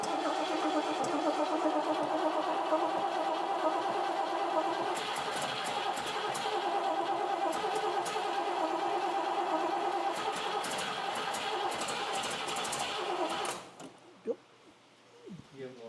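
A drag race car's engine cranks and fires up, a loud continuous mechanical roar close by that cuts off abruptly near the end, followed by quiet with brief knocks.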